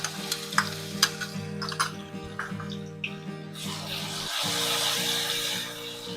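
Garlic goes into hot oil with browned cumin and a pinch of asafoetida over a low flame, giving a soft steady sizzle with a few stirring clinks, close by and without speech.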